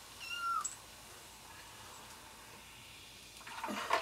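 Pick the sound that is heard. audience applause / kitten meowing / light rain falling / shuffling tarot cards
kitten meowing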